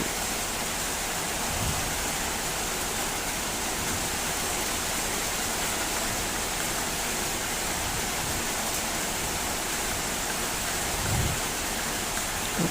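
Morning rain falls at a rural countryside house, a constant dense hiss of water with a couple of soft low thumps, steady throughout and with no talking.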